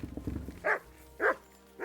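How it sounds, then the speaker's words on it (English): A dog in Kingdom Come Deliverance 2 gives three evenly spaced barks, each short and moderately loud, preceded by a brief rumble. "Good doggy."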